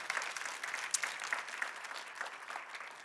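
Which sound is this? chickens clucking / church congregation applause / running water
church congregation applause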